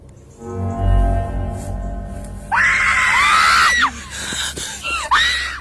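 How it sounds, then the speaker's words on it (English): Several people scream in fright, loud shrill overlapping cries bursting out together after a low rumbling opening, then a couple of shorter screams trailing off toward the end. "We are left filled with screams and confusion."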